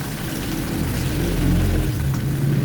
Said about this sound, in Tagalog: Prituhin muna natin ang ating carrots at patatas.